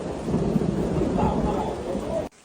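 Steady rain with low thunder rumbling in the mountains, a dense, loud wash of noise lasting about two seconds before cutting off abruptly.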